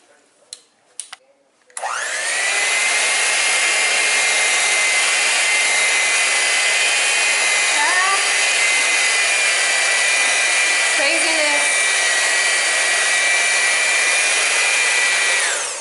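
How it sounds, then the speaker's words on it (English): An electric mixer whirs on its lowest setting through fudge brownie batter, a steady loud motor drone starting abruptly after a few clicks and running evenly to the end. "make sure that your mixer is hooked up and make sure that it's in the lowest section"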